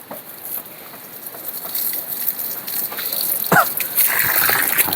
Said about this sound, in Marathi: येणार आलं सोड की पाणी.